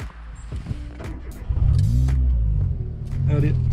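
Renault Twingo 2 RS engine rumbling while driving, a low drone that swells and grows louder midway and then holds steady from inside the car, with brief voice-like sounds.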